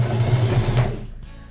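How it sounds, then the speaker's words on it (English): A sewing machine stitches pieced fabric, its motor whirring steadily and loudly up close for about a second before cutting off abruptly, leaving near silence. "I'm going to help the sewing machine pull that fabric through by holding and pulling a little bit with these threads"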